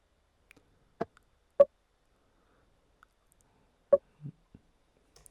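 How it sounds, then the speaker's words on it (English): Sparse little percussion hits from a vocal sample beat, a handful of short dry clicks and taps spaced irregularly over near silence, quiet and isolated. "I just use like these little perk hits"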